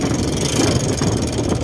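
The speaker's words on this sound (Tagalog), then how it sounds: "Uy, kadaghang mga motor ba?" Motorcycle engines on a road in Tuburan, a dense, steady rumble of several bikes passing close by, brief and continuous with no voices.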